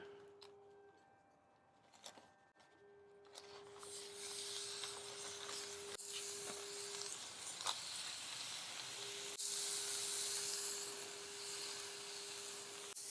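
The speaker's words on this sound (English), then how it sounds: "Now we'll go ahead and grill those patties." Thin salted burger patties for a Tommy's-style double chili cheeseburger sizzle on a grill, a loud steady hiss that builds after a few quiet seconds and persists, with a faint tonal hum running underneath.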